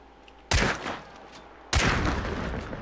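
Two loud, close gunshots ring out about a second apart as a player fires at a witch on a dock in the video game Hunt: Showdown.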